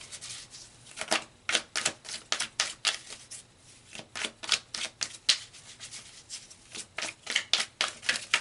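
Tarot cards are shuffled and drawn in a quick irregular series of crisp riffling slaps and flicks, close and fairly soft, with no voice over them.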